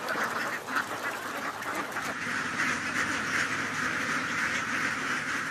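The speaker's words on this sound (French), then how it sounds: "Ces armées de canards nettoyeurs sont devenues la norme dans les campagnes du royaume." A large flock of ducks kept to clean Thai rice fields quacks in a dense, continuous chorus, loud and overlapping with no pauses, filling the open countryside.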